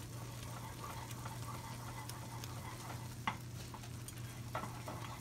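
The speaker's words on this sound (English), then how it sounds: "You definitely want to keep stirring this, y'all." Thick toffee mixture stirred in a pot on the stove, a steady low bubbling hum with scattered spoon scrapes and clicks, close and moderately loud, no talking.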